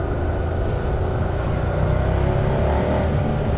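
A 2023 Ducati Scrambler 800 Next-Gen motorcycle engine picks up as the throttle reopens, a continuous close engine drone with a rising tone, heard alone.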